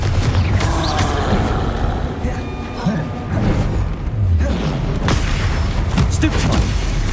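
Spell explosions from Bombarda and Confringo in the video game Hogwarts Legacy land as loud, dense booms and thuds in rapid succession, overlapping with combat clatter and a voice calling out.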